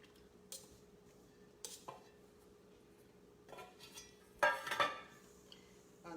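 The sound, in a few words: stirring buttermilk and egg into hushpuppy batter in a bowl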